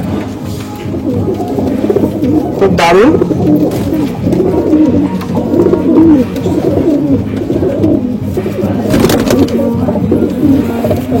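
A flock of Malwai pigeons coos steadily and loudly nearby, dense overlapping low rolling calls throughout, with someone speaking briefly over them.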